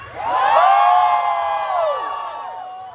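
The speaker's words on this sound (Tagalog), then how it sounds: "sigawan po ang lahat!" Concert crowd in Al Khobar, Saudi Arabia, shouting and cheering at a live pop performance, a loud swelling roar of voices and whoops that gradually fades.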